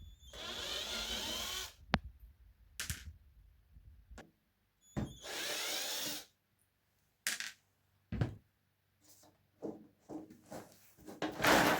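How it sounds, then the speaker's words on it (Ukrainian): A cordless screwdriver backs small self-tapping screws out of a lamp housing, giving several short whirring bursts of one to two seconds, separated by clicks, knocks and handling noises, close by with no talking. "Тобто беремо шурупокрут і викручуємо."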